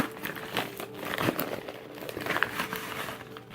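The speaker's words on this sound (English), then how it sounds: "Just tear it open." A mail package is torn open by hand, with close, continuous crinkling and ripping of paper or plastic wrapping for a few seconds and occasional sharper tears.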